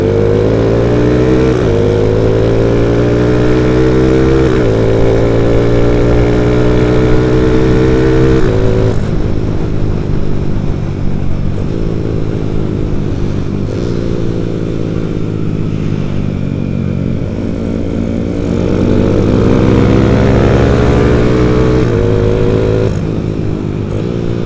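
A motorcycle engine on a race circuit track day at Sirkuit Bung Tomo, Surabaya, roars loud and close, rising through the gears and dropping at shifts and braking, again and again.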